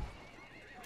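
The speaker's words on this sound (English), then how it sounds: "This horse." A horse in the video game Battlefield 1 gives a short, faint whinny with a hoof thud at the start, brief and somewhat distant.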